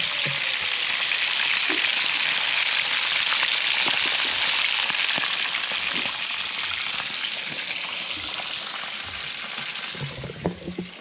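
Fish frying in a pan during a family meal in Madagascar: steady, loud, close sizzling and crackling oil with occasional pops and stirring clicks, continuing throughout without talking.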